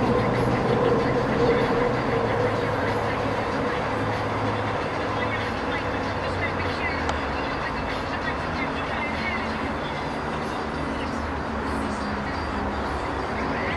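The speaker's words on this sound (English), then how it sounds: "There's a SkyTrain coming above them too." A SkyTrain passes overhead with a steady, loud rail rumble and rattle that fills the whole stretch without letting up.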